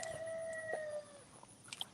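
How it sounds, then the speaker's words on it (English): A rooster crows in a garden, a long sustained call with a falling tail lasting about a second, fairly clear, followed by a few faint short clucks and bird chirps. "Rooster's crowing for you guys."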